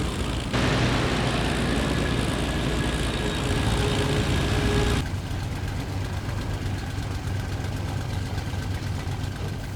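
A 1350-horsepower propeller fighter plane's engine roars loudly at full run before takeoff, then drops abruptly to a lower, steadier idle-like drone, no voices over it.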